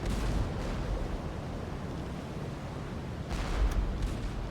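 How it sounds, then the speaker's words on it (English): Depth charges detonate in the submarine game UBOAT, dull low booming rumbles rolling continuously, with a couple of heavier thuds toward the end and no speech. "Depth charges."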